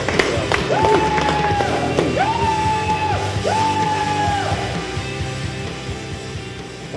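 An audience at a university board of trustees meeting cheers with loud whoops and drawn-out yells over a crowd murmur, several rising calls repeating over the first few seconds.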